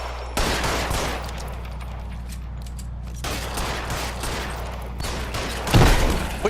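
Sustained gunfire in the L.A. Noire video game, steady bursts of rapid shots filling the whole stretch, with a louder cluster of blasts near the end and no talking.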